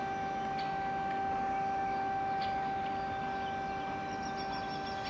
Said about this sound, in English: hearing siren blasting overhead